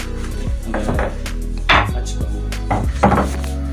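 A mold cutting through sweet biscuit dough on a hard surface, several firm knocks and chopping thuds spaced unevenly, loud and close, with no talking.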